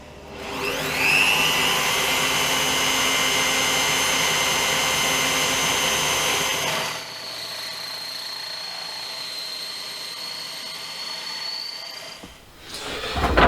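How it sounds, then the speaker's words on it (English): Steady high-pitched whine of a power drill or router countersinking screw holes in a wooden steering hub, running loudly for several seconds, then a quieter sustained tone before winding down. "countersink those."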